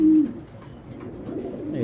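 A super breeder pigeon gives a short, clear coo up close, followed by softer, faint murmuring coos in a quiet setting.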